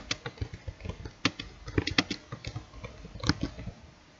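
Rapid, uneven clatter of typing on a computer keyboard, close and fairly crisp, keys tapped in quick bursts with short pauses and no speech.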